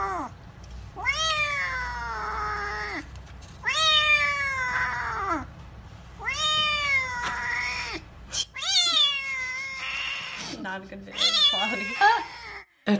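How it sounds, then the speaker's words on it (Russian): An injured kitten with a hurt paw meows while being treated, several loud drawn-out cries in a row, with short pauses between them. "Этот котенок поранил лапку и его лечат."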